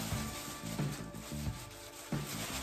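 Hands rubbing Just For Men H-40 Medium-Dark Brown hair dye into hair, repeated soft scrubbing strokes in a rough rhythm, close and fairly quiet.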